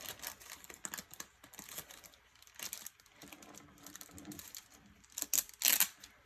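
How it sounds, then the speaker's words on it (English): Scissors snip through sheets of craft planner stickers, producing irregular crinkly rustles and short paper cuts, faint and close, with a louder crisp burst near the end and no speech. "I need my scissors to start cutting some of these stickers"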